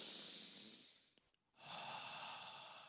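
A voice imitating slow, deliberate conscious breathing, a long airy exhale, a brief pause, then a long breathy inhale, close and soft with no words.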